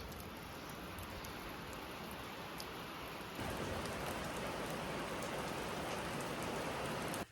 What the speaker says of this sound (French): Bien évidemment, il pleut à nouveau.